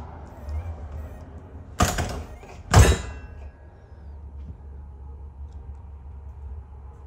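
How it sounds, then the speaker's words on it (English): Interior door of a Flagstaff Classic 8321KRL travel trailer sliding and shutting, two sharp knocks about a second apart, the second heavier with a low thud, against quiet room tone. "Let's shut this door."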